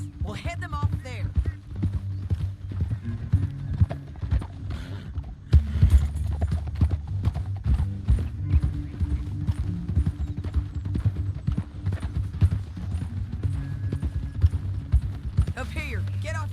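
Horses' hooves clip-clop steadily in a game scene, a busy rhythmic patter with occasional whinnies and mechanical clatter, while voices talk over it throughout.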